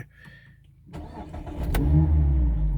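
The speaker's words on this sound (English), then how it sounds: "see how it revs up. Nice raspy note." A Mazda MX-5 2.0 SKYACTIV-G engine catches and starts, then revs up into a loud, raspy, rising growl that holds close by.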